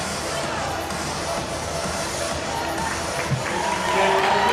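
Duke fans who travelled to an away basketball game against North Carolina give a modest round of applause, blended into steady arena crowd noise and murmur with no single voice standing out.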